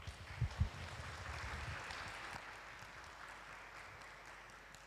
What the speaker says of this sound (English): Please join me to give a round of applause for Dr.